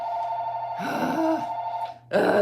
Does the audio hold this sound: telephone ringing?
yes